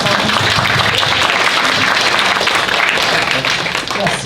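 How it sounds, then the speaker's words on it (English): Audience applause for a speaker at a transition planning and legal rights talk, a steady dense wash of clapping filling the whole stretch, fairly loud and close, with possible murmured voices underneath. "Round of applause for Sarah."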